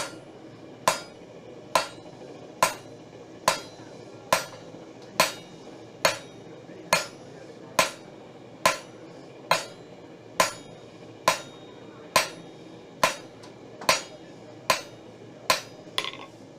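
Hot metal is hammered on an anvil while a piece is drawn out at a blacksmithing event, with sharp ringing blows landing in an even, unhurried rhythm about every 0.9 seconds for the whole stretch.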